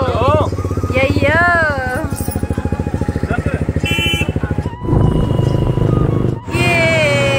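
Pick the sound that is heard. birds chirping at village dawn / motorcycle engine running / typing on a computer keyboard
motorcycle engine running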